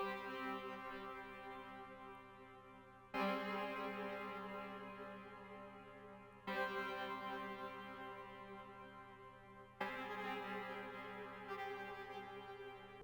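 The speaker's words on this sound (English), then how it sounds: "I made the chords within Flex and they sound like this" Dark, repetitive synth chords played in the Flex plugin for a wavy beat, sustained tonal stacks restruck about every three seconds, full and steady with a soft low hum underneath, no voices.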